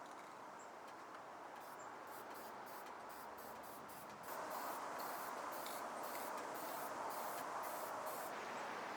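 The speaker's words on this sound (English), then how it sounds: "I took this matte finish and gave the pieces a quick spray" Matte finish spray from an aerosol can misted onto small pieces: a faint, steady, airy hiss that runs throughout and grows slightly stronger partway through, with no talking.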